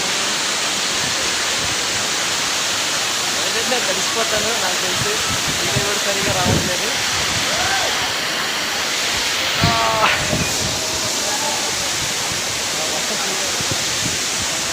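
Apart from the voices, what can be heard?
Bhairavakona waterfall and heavy rain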